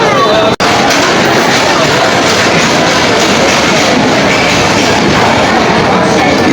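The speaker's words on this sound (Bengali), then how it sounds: "ট্রেন ছেড়ে দিল, এখন চলে যাচ্ছে এই ট্রেন বেনাপোলে।" A train pulls out bound for Benapole, filling the space with a loud, continuous roar and rattle heard from up close, with a brief drop near the start.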